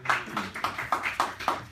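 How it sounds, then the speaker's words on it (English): A small audience claps for a guest at a beach radio broadcast. About six sparse, rhythmic bursts of clapping sound close and fairly quiet, with no voices. "Let's have a round of applause for Joe Satriano."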